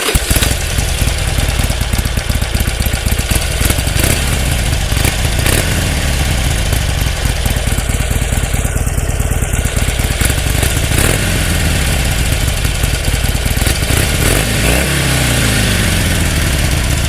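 A Harley-Davidson Iron 883 motorcycle engine, set in neutral, starts and settles into a steady, loud, close idle with a lumpy low rumble through baffled pipes, running alone without talk.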